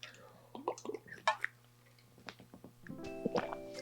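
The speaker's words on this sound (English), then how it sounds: "Let me take a sip of water before we continue the story." Faint sips of water from a glass come in a few soft, wet gulps and plops, close to the microphone in a quiet room.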